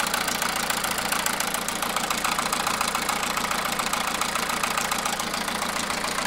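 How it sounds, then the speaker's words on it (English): A MINI R56 diesel engine idles steadily up close, with a fast, even ticking tap from a faulty injector running through the rumble. "I think it's injector 1 that's tapping away"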